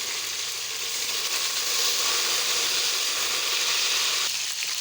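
Ginger-garlic paste hits browned onions in a hot pan, giving a loud, steady, hissing sizzle with faint clicks of utensils, close to the listener, and no talking.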